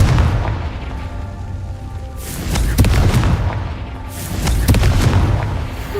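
In the video game Hogwarts Legacy, the Confringo spell sets off two heavy booming blasts a couple of seconds apart, each rumbling out briefly over a continuous low game backdrop.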